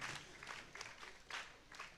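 An audience claps at a school speech and prize-giving day, a soft, fairly distant patter of applause that swells in a few waves over two seconds.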